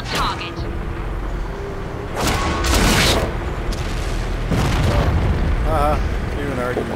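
Tank cannon shots in World of Tanks, a Conqueror heavy tank in team battle: loud booming blasts over a constant engine rumble, with a voice talking in the background.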